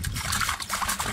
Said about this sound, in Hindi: 4 लीटर पानी और 1 लीटर मिट्टी तेल को मटका के अंदर ये लकड़ी की सहायता से घोल रहा हूँ